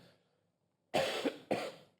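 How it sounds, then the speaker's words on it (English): Two sharp coughs close to the mic, the first slightly longer, after a moment of near silence. "Sorry for this little cough I got."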